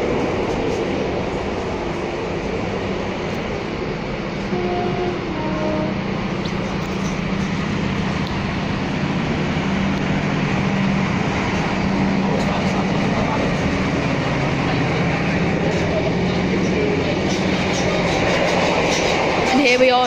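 Inside a Northern class 156 diesel train while it runs, a continuous low rumbling drone with a rhythmic rail clatter that holds steady for about twenty seconds, with soft voices in the background.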